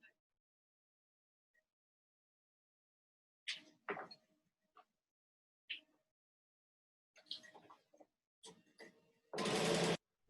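Sewing machine stitching chevron patchwork pieces, heard in short separate bursts of whirring stitches between quiet pauses, ending in a longer, louder run of stitching.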